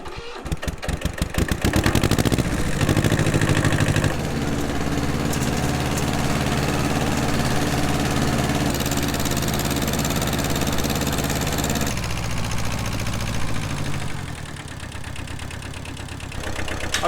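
A tractor engine runs loud and close as the machine is driven into position on a mountain homestead, starting with a burst of revving and then settling into a steady, throaty idle-like drone throughout.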